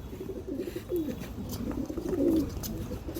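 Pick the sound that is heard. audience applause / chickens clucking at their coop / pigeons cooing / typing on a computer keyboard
pigeons cooing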